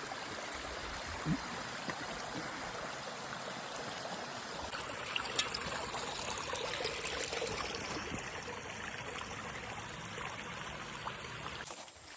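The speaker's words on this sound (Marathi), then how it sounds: "पाण्याचा झरा भेटलेला आहे" A forest stream on the Mahuli fort trek flows steadily nearby, a continuous bubbling rush of water that stays even throughout.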